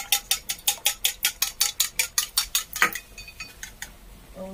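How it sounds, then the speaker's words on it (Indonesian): A single egg beaten briskly with a utensil in a bowl, about a dozen quick, even metallic clinks in a steady rhythm that slows and fades toward the end, close and clear with no talk. "Jadi Epi ini telurnya dikocok ya."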